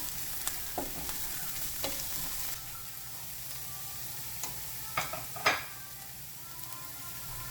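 Ginger and garlic paste frying in a pan, a steady low sizzle with occasional sharp scrapes and clicks of a utensil stirring, fairly faint and without speech.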